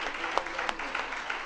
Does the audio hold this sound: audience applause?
yes